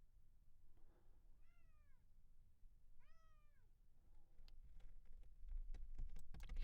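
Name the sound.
cat meowing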